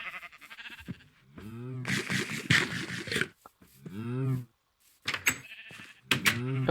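Blocky Minecraft cows in a castle world give several low, groaning moos in separate bursts, fairly close and clear, with brief gaps of quiet between calls.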